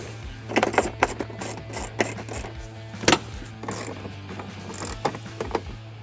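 Plastic interior trim panels on a Chevy Trailblazer being pressed and clicked back into place, a series of sharp, close clicks and snaps at irregular intervals over a steady low hum.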